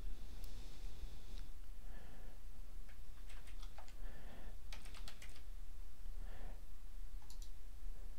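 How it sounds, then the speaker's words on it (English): Computer mouse button clicks while working with a Microsoft Access database over ODBC: several sharp, close clicks and taps, scattered irregularly across the clip against a steady low background hum. "Clicking the new button clears the field so that"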